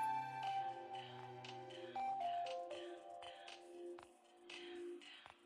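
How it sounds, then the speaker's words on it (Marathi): A phone rings indoors with a melodic electronic ringtone that plays a bright chime-like tune for several seconds at moderate volume. "श्रीचाच फोन."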